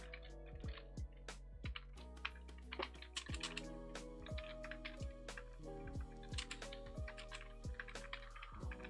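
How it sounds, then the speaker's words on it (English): Computer keyboard typing in quick, uneven bursts of crisp clicks and key taps, close and fairly quiet, with short pauses between runs of keystrokes and no talking. "I need to learn how to type on this keyboard first"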